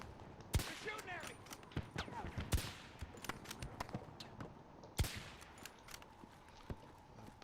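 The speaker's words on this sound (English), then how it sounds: "They're shooting at me!" Video game gunfire crackles in sharp, scattered shots and short bursts, some loud and close, others fainter, over a busy battlefield background.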